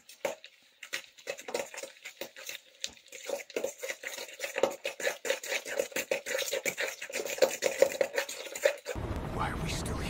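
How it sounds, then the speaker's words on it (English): Eggs being mixed into banana bread batter: a fast, irregular run of utensil taps and knocks against a bowl, moderately close, ending in a short burst of broadband noise. "now we put in the eggs and we mix again"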